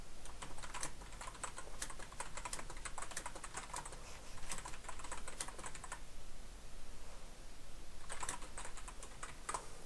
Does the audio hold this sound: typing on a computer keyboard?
yes